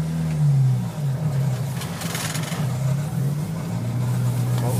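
A 1989 Jeep YJ engine runs rough and misfires, with a loud, uneven low drone that wavers in pitch and stumbles. A burst of noisy hiss briefly rises partway through.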